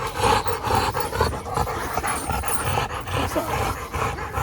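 A female dog pants steadily and close by, quick rhythmic breaths continuing throughout with no talking.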